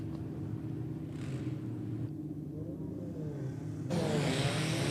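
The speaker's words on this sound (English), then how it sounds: "Big burnout from our friend in the Hilux." Toyota Hilux 4WD with 11-inch rear tyres doing a burnout at a night 4WD drag racing event, a steady droning engine rumble that swells louder near the end, heard from a distance with no voices.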